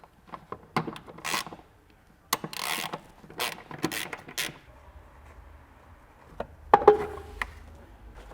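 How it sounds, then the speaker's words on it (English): Two 10mm bolts being undone from a car's footwell foot support, a run of close, sharp ratcheting clicks and metallic ticks in bursts, then quieter scraping and a couple of final knocks. "We just remove this foot support, held on with two 10mm bolts."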